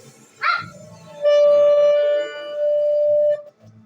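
A shofar sounds a long steady blast, preceded by a short rising bleat, then a second lower sustained call; fairly loud and close.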